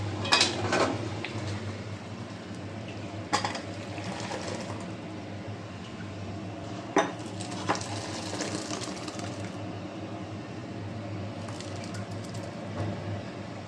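Cooked dal, made with coconut, ladled into two bowls in a home kitchen: soft wet scooping and several light clinks of utensil on bowl, moderately close, over steady background hum.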